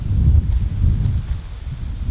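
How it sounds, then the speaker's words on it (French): Strong gusts of stormy wind on Sado Island, Japan, buffet the microphone with a deep, rumbling roar that swells and eases over a couple of seconds, with no voices. "Ah là, il y a un vent de dingue, il fait trop froid."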